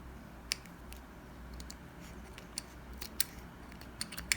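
Blunt scissors snip crochet yarn for a crocheted ecobag, giving sharp, dry clicks in an irregular scatter. The snips are close and fairly quiet over a low background hum, and no one speaks.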